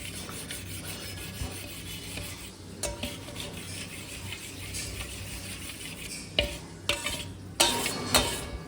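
Yogurt is stirred in a bowl with an improvised utensil instead of a spoon, making continuous rubbing and scraping sounds, then a run of sharper knocks and clatters toward the end.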